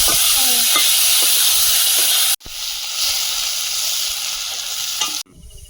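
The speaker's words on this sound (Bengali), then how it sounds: "আলুটা লাল করে ভেজে নিয়েছি এবার ডিমের শাকটা দিয়ে দেবো" Leafy greens (gime shak) and potatoes frying in hot oil in a wok with whole cumin and burnt garlic, a loud steady sizzle and hiss with stirring scrapes, briefly cut off and resuming.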